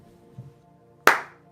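A single sharp hand clap, close and crisp, after a quiet moment with a faint low knock just before it.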